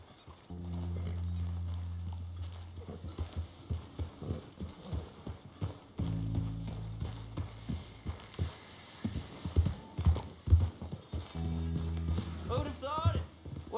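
Rhythmic horse hoofbeats in a video game clip-clop continuously at a steady gait while voices talk over them in short stretches.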